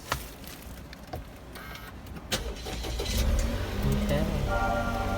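A car's engine cranks and catches after a push-button start with the brake held, settling into a steady idle hum that fills the second half, while people talk nearby.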